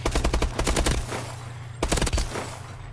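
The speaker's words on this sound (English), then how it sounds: "this is just really to give you guys an idea of sort of what the performance of this gun looks like" Rapid automatic fire from a BAL-27 rifle on a Call of Duty: Advanced Warfare firing range, two loud bursts of quick shots separated by a short pause, with no talking.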